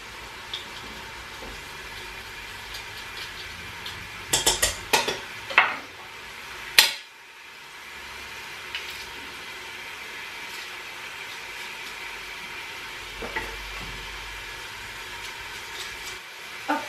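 Garlic and onion frying in a pan, a soft continuous sizzle with a few sharp clinks and scrapes of utensils in the middle, then a quieter steady hiss.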